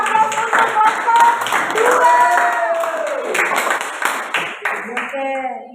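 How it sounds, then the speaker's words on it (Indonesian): A classroom audience claps for presentation group 2, with scattered hand claps mixed under a voice speaking close by. "kita kasih aplaus untuk kelompok"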